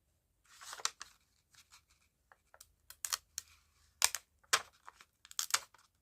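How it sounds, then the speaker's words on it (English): A sticky paper flower is peeled and ripped loose. The sound is a string of close, quiet crinkles and tearing snaps in short bursts, with silence between them. "Oops, I just ripped that one off."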